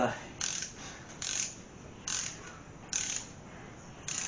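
A ratchet wrench snugs engine bolts in a series of bursts of rapid clicking, each about half a second long, separated by short pauses, close and clear with no talking.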